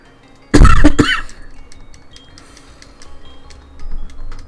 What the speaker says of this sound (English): I'm completely ignoring that, by the way, the cough.